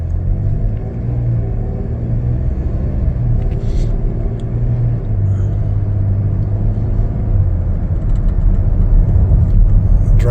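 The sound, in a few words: 2021 Chevrolet Traverse LT 6-cylinder SUV driving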